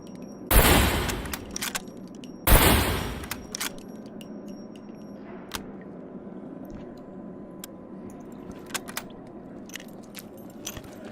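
A repeating rifle firing in the game SCUM: two loud, broad shots about two seconds apart, each with a short tail, then quieter clicks and light mechanical rattles of the action under a low background hum.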